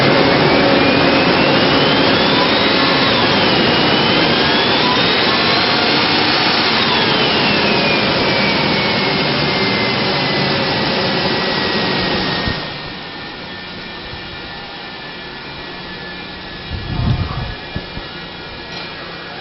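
A 2000 Ford Ranger's 4.0-liter engine with automatic transmission runs with a loud, steady whine and roar, drops to a quieter hum about two-thirds through, then gives a brief low thump near the end.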